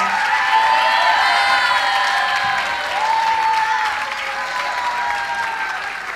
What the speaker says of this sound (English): give a really huge round of applause to Vrindavan class